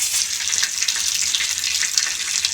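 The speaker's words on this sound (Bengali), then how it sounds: "এই পাতাগুলো কিন্তু তেলের মধ্যে দিলে কিন্তু ফুটবে" Curry leaves frying in hot oil give a steady, bright hiss and crackle, dense and continuous throughout, close up with no voices.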